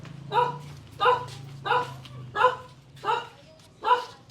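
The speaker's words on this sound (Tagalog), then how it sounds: "Ay, Gong, may aso dyan." A dog barks six times in an even rhythm, moderately close, with a low hum underneath.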